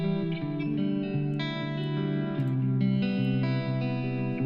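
Layered electric guitar tracks with light reverb play sustained, distorted chords in a studio mix, a steady, full wash of tone with shifting notes and no voices.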